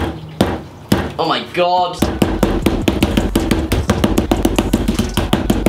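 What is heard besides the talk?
hammering aluminium foil ball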